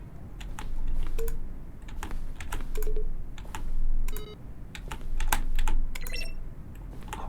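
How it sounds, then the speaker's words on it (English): Button presses from The Stanley Parable, each mixing a keyboard stroke with a short synthesized tone, tick in irregular clusters of sharp clicks with brief pitched beeps, close and fairly loud over a low background hum. "Each sound is a mix of a keyboard stroke and a synthesized tone."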